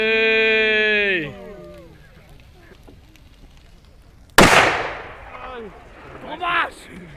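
Machine-gun type firecrackers go off outdoors at a bonfire celebration, one sharp loud blast followed by a crackling burst a moment later, after a sheep-like bleating voice and quieter people talking in the background.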